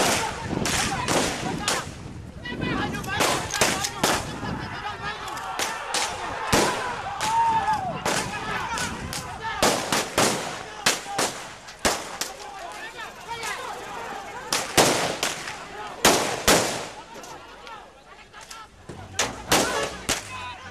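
Repeated sharp gunshots fired into the air by police crack out irregularly, some in quick bursts, amid crowd noise and shouting at an outdoor demonstration in West Papua.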